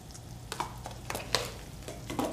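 Vegetables for a creamy pasta are sautéed in a pan, giving a soft steady sizzle broken by several sharp scrapes and clicks of a utensil stirring, fairly close and quiet.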